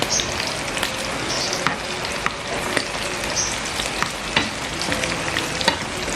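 Salted sepat fish frying in a pan of hot oil, a steady dense sizzle with scattered crackles and pops, close and alone without talk.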